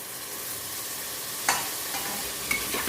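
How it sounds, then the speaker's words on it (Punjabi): Tomato paste and red chilli spices fry in oil for a raw potato curry, a quiet steady sizzle with two sharp scraping stirs of a spoon against the pan. "ਟਮਾਟਰ ਵੀ ਭੁੰਨ ਹੋ ਗਿਆ ਵਾ ਤੇਲ ਇਹਨੇ ਛੱਡ ਦਿੱਤਾ ਵਾ"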